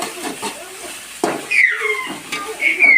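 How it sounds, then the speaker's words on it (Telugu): Tomatoes frying in a pan for village-style egg fried rice, soft sizzling with scraping and stirring clatter, close by, with occasional background voices. "టమోటా బాగా వేగనియాలా"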